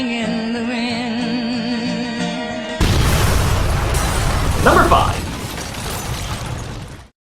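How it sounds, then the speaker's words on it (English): A film-scene explosion bursts in with a sudden loud boom after a stretch of music, followed by a roaring, rumbling blast with debris that fades out; a voice speaks briefly at the start. "Nobody can just stand around while an explosion goes on."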